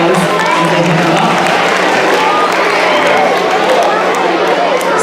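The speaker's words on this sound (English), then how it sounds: "Let's give them a round of applause as they come up." An audience at a school winter concert claps and cheers as performers come up to the stage, a loud, continuous wash of clapping mixed with crowd chatter and voices throughout.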